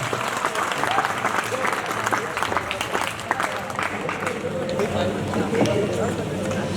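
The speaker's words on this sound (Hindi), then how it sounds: "एक बार जोरदार तालियां हो जाएं।" An audience at a college dance performance gives sustained, loud applause, with dense clapping that holds steady throughout while a voice talks over it.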